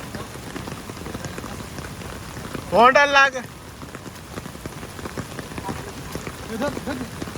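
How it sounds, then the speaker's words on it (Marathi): Heavy rain patters steadily and densely throughout, with a brief loud voice calling out near the middle. "खूप पाऊस आहे मित्रांनो बघा"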